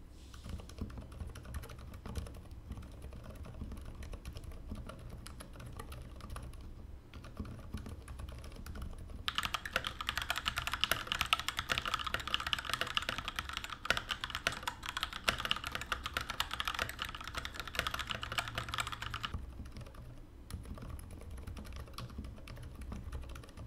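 Typing on a Varmilo VA87M mechanical keyboard with Cherry MX Silent switches: soft, muted keystrokes in quick runs, quiet at first, then a denser, louder burst of typing in the middle before easing back down.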